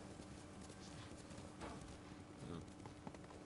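Horse hooves clip-clop in the Ghost of Tsushima video game, a steady rhythmic trot under a dense game soundscape with occasional louder hoof strikes.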